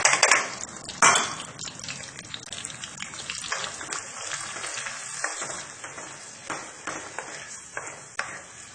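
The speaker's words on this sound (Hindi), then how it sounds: "इसको हम थोड़ा भूनेंगे जब तक कि इसका तेल ऊपर ना आ जाए।" Tomato and onion paste fries in an oil-filled pan, giving a steady close hiss with an initial louder crackle as it hits the pan, then stirring scrapes and scattered pops throughout.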